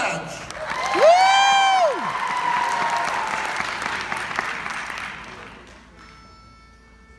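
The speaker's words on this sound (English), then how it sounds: "give it up for Soulfege!" Audience clapping and whooping for an a cappella group, a sharp rising whoop near the start over loud applause that gradually fades toward the end.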